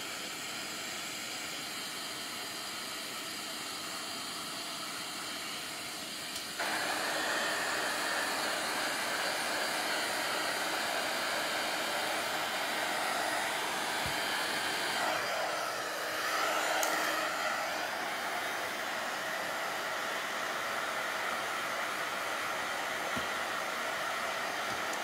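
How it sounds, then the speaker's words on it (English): Hair dryer blowing on wet alcohol ink, a faint steady whooshing hiss that steps louder partway through and continues evenly, heard alone with no talking. "I'm just going to quickly dry them off"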